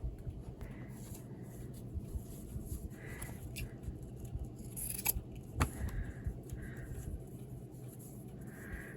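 Scissors cutting material while making a boho bag, a few quiet snips and blade clicks spaced apart, close but faint over a low background hum, with no talk.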